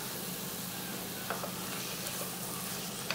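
A ghee-greased pan holds a thick mix of nendran banana and rice flour being stirred, giving a soft, steady sizzle with occasional scraping ticks, close and unbroken, with nobody speaking.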